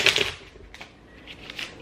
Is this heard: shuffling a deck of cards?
yes